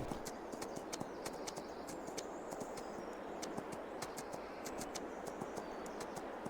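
Horse hooves in Farming Simulator 22 clip-clop in a quick, steady rhythm over a dense background wash, with no talking.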